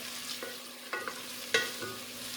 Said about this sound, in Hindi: प्याज को हम अच्छा सा सौटे करते हैं